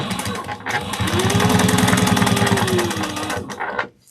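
A sewing machine basting a seam 1/8 inch from the edge on a fabric sling runs in a steady, fast rhythmic stitching burst of about three seconds, close and loud, then stops.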